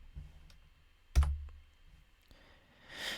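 A command being typed on a computer keyboard, a few sparse, close clicks and taps separated by quiet gaps, with no talk.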